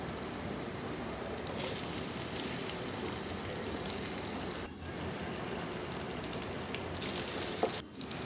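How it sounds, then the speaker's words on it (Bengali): Pieces of elephant foot yam fry in oil in a pan, giving a steady, faint crackling sizzle that runs without a break and is heard alone, with no voices over it. "কিছুটা পরিমাণ তেল দিয়ে তার মধ্যে কচুগুলো দিয়ে দিলাম।"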